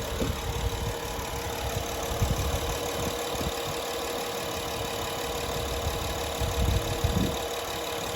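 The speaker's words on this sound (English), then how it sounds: "And this is V6 engine." The V6 engine of a 2012 Honda Ridgeline truck idles steadily and evenly up close, a continuous low rumble with no talking.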